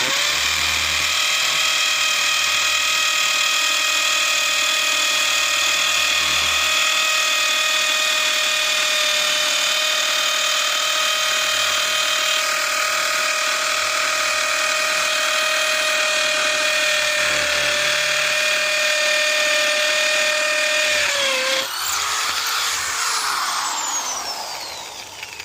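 A cheap Harbor Freight hammer drill in hammer mode, its motor whining loudly and steadily as it bores continuously for over twenty seconds before the pitch drops and it winds down, with no voices.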